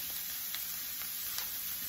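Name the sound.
food frying in a pan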